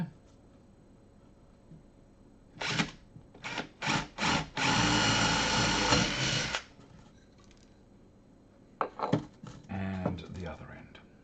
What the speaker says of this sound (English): I'm going to drill a hole in here